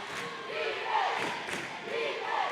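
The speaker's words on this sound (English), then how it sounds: "As you can hear this crowd, the Santa Rosa crowd traveling 4 hours here." Santa Rosa basketball fans packed into one side of an arena at a 3A regional semifinal roar and cheer in surging waves, a loud crowd swelling twice over a few seconds.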